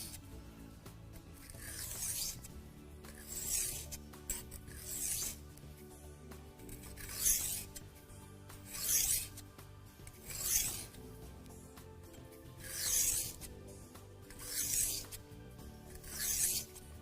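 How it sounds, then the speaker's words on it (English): A kitchen knife drawn across a wet sharpening stone, about three quick strokes per side, makes repeated rasping, grinding scrapes in steady bursts roughly every one to two seconds, close and clear with no talk. "That's the metal on the knife working away on the stone."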